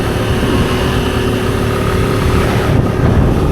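A motorcycle engine drones steadily and loudly while riding along a road toward Gazipur, close to the microphone with a constant rumbling hum and no talking.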